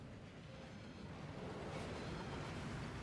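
The waterfall at Gringotts in Hogwarts Legacy roars as a steady, faint wash of falling water, a continuous broadband rush that swells slightly partway through, with no voices.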